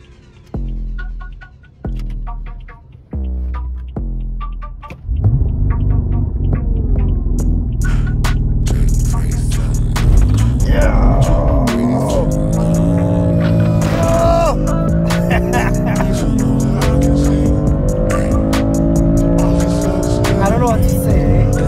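A BMW F80 M3 launching from a standstill, a few short revving blips and then a loud sustained engine roar as it pulls away hard, rising through the gears.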